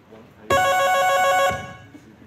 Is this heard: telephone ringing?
yes